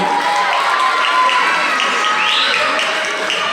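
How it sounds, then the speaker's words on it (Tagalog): A crowd at a Miss Gay pageant during a fiesta in Tondo cheers and shouts continuously, a loud mix of voices and claps filling the space from start to finish. "Maaari po ba ang panlimos o manghingi ng isang masigabong palakpakan at sigawan?"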